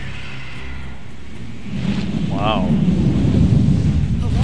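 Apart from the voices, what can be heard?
thunderous storm of a giant storm creature in video game Final Fantasy XV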